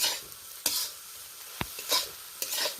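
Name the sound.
stirring spicy semolina (suji) in a pan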